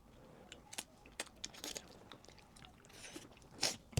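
Several people bite into frozen mochi, giving sharp crunchy snaps and soft chewing clicks scattered irregularly over a few seconds, fairly close and quiet, with no talk.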